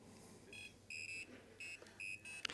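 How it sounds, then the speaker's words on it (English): A buzzer on a connected electronic device beeps in short tonal bursts of uneven length, fairly faint against a quiet room background, as if someone is tapping it out by hand. "Yep, someone found the buzzer."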